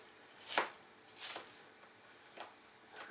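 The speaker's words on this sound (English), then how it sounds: "I have to cut the carrots because they are hard and they need longer time" A knife chops hard carrots on a cutting board: four crisp, separate cuts spaced roughly a second apart, close by and fairly quiet.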